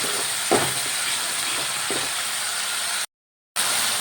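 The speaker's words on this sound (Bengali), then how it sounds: "এবার দিয়ে দিলাম হলুদ গুঁড়ো এবং গুঁড়ো মশলাগুলো দিয়ে ভালো করে আবার কষিয়ে নেব" Turmeric and ground spices sizzle and fry steadily in a pan for a niramish aloo dum, with a couple of soft stirring scrapes and a brief silent gap near the end.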